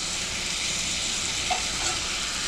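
Steak with onions and peppers sizzles in a hot pan for a hoagie filling, a dense continuous hiss and crackle, loud and close, with faint stirring knocks and no voices.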